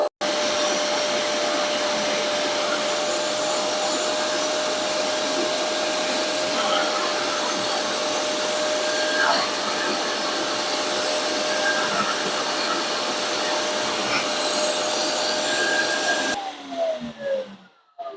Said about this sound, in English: if you turn the vacuum on right here, this button right here is going to squirt out some fluid.